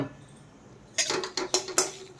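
A metal wok on a stove clatters and clinks several times in quick succession, sharp and close, after a second of near silence.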